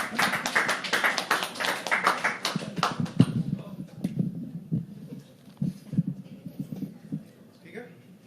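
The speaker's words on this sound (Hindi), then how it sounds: "तालियां तालियां यार दीपक के लिए" An audience at a poetry open mic claps for a poet as he comes up, with a burst of brisk clapping at the start that thins to scattered claps while people talk.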